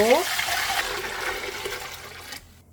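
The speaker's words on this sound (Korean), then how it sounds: "한번 끓여두었던 간장물을 다시 한번 붓고" Soy sauce brine, boiled once already, poured over stacked baby melons for pickling: a steady gushing liquid pour that runs loud and continuous for over two seconds before cutting off abruptly.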